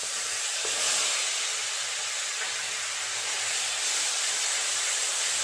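Onion paste hitting hot oil spiced with dried chilli, cinnamon, cloves and cardamom, frying for a Bengali prawn malai curry: a steady, loud broadband sizzle and hiss that holds evenly throughout with no talk.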